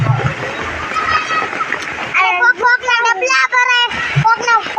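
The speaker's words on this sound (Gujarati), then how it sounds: "જો પાણી કેટલું આવેલું જાય છે" Floodwater from Girnar rushes and splashes through Bhavnath in heavy rain, a broad churning roar that stays under voices talking loudly nearby for most of the stretch.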